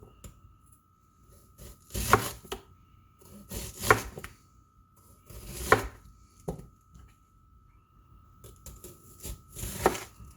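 A knife cuts roasted red pepper into rings on a board, giving sharp chopping strokes at regular intervals of about two seconds with quieter small taps between them.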